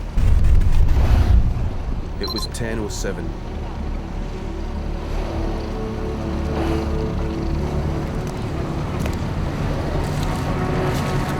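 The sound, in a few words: boat moving on the sea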